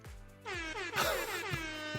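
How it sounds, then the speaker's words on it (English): Several loud air horn blasts in quick succession, overlapping honks with a brassy, blaring tone. "This is multiple air horn time."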